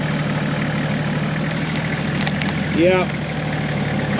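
Off-road Toyota or Nissan truck engine idling with a steady low rumble on an extreme hill climb at Erzberg, a voice speaking briefly over it and a short rising whine midway.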